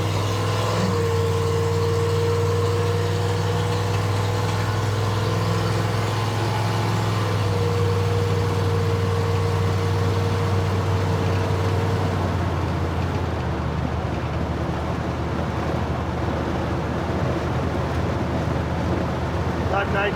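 A car engine fitted with an oversized, overly rich carburetor cruises steadily at about 1600 RPM and 52 mph, a constant low drone with road noise that continues throughout.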